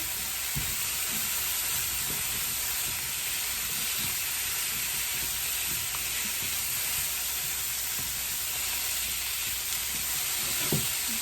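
Finely chopped zucchini sizzles steadily in a hot pan for a hibachi-style meal, a loud, even hiss broken by occasional scraping knocks as it is stirred, with no talking.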